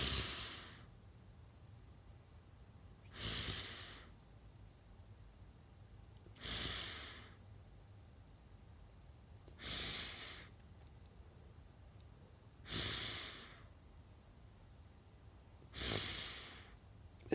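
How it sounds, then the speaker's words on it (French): Slow, calm breathing in and out during a relaxation exercise, with six soft, airy breaths evenly spaced about three seconds apart against near silence, close and gentle. "J'inspire."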